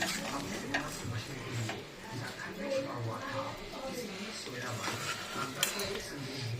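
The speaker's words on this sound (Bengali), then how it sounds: "এই যে আলুটা দিলাম এই মাত্র দিয়ে এবার একটু নেড়ে দিই ভালো করে" Potatoes being stirred into a chicken curry in a pot, with soft clinks and scraping of a utensil against the pot beneath someone talking throughout.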